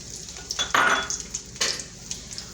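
A medium-sized onion goes into hot oil in a pan for spaghetti, giving a soft sizzle with a few sharp utensil clinks and scrapes against the metal.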